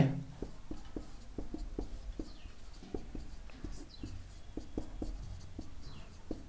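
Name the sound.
writing on a board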